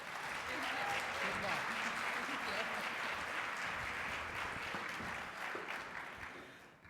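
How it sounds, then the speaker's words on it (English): A big round of applause from an awards-gala audience for a presenter, steady dense clapping that swells early, holds, then tapers off toward the end, with faint voices underneath. "Let's give a big round of applause for Molly."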